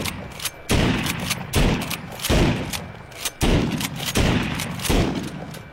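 Pump-action shotgun fired over and over, heavy booming blasts roughly every second with a brief pump cycle between them, loud and close with no talk.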